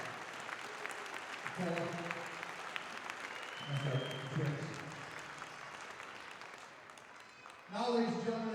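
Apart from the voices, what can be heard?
crowd applause for wrestlers and parents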